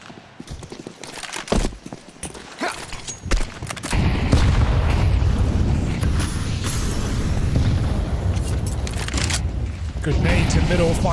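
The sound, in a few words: grenade explosion in video game Counter-Strike, Ancient map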